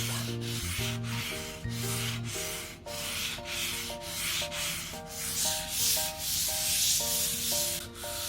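Hand sanding along the edges of a camphor wood cutting board, a steady close rasping scrape in repeated back-and-forth strokes, with soft musical tones playing underneath.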